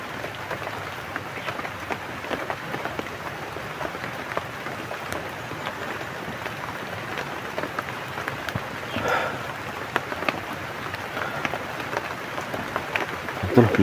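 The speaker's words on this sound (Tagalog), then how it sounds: "lakas yung ulan" Heavy rain falls steadily, a noisy patter with scattered close drops tapping on a surface, and faint voices now and then beneath it.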